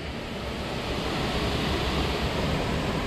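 A waterfall on a hiking trail to a hidden falls pours in a steady, dense broadband roar, continuous and fairly loud with no breaks.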